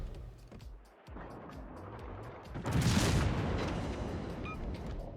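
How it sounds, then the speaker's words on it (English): A warship firing HE shells in World of Warships, with heavy booming naval gunfire and rumbling blasts that swell louder partway through over a steady low engine drone. "This Spey keeps firing HE."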